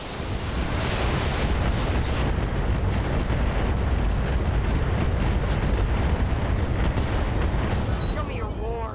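Mech weapons fire on a Roughneck in RogueTech, a dense, sustained roar of blasts and rumbling explosions filling the whole stretch at high loudness, with a brief tonal whine near the end.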